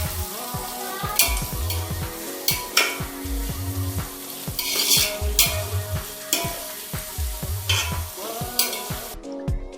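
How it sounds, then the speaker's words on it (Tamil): Onions with cinnamon, cloves and cardamom fry in hot oil for a country chicken biryani, a loud close sizzle broken by rhythmic metal spatula scrapes and clanks against the pot. "எண்ணெய் சூடானதும் பட்டை, கிராம்பு, ஏலக்காய் எல்லாம் போட்டுட்டு கூடவே வெங்காயமும் போட்டுக்கலாம்."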